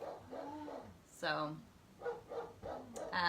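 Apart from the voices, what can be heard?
dog barking after a firework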